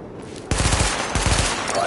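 Rapid bursts of automatic gunfire at highlighted targets in a weapon test in Tom Clancy's The Division video game, a sudden loud stream of closely spaced shots starting mid-clip and continuing to the end.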